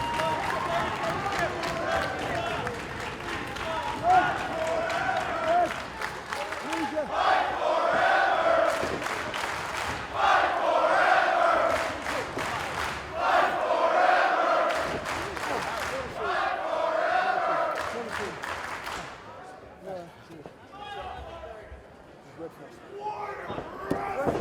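Wrestling crowd at a Warrior Wrestling event roaring and cheering throughout, with steady rhythmic swells of noise and claps, loud and dense, fading near the end.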